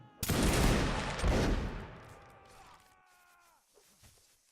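Infantry of the 1st East Prussian Infantry firing rifles by files, a loud crackling burst of overlapping shots that decays into fading ringing tails, with faint movement sounds afterward.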